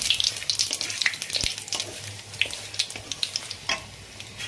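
Radhuni seeds, whole dried chillies and bay leaves for a milk shukto fry in hot oil in a pan and are stirred, a steady crackling sizzle broken by scraping stirs and light clicks, close and fairly loud with no talk.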